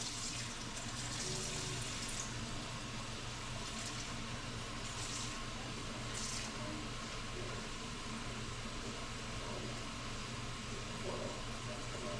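Water poured into a container of orange slices for candied oranges, a steady close wash of running and filling water throughout with no talk.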